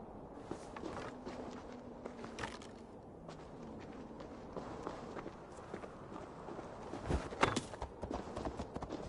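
Horse hooves clip-clopping in Assassin's Creed Valhalla, a quiet, uneven run of hoofbeats over a low ambient background, growing slightly louder and busier near the end.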